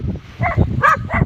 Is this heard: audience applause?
no